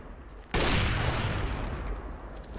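A sudden loud burst of gunfire in the shooter game CS:GO, a sharp onset followed by a sustained, slowly fading rattle and reverberant tail, with no talking over it.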